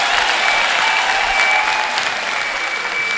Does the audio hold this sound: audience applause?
yes